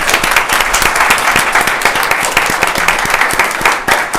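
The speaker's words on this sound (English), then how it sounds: "Let's give her a round of applause." A meeting room of people at a county board of commissioners session applauds Dr. Alika Anderson, loud continuous clapping with sharp individual claps standing out, close and steady.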